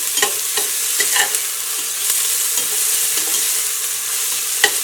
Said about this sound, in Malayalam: ഈ സവോള നന്നായിട്ട് മുരിഞ്ഞ് വരണം. സവോള മുരിഞ്ഞിട്ട് നല്ലൊരു ഗോൾഡൻ കളർ ആവണം.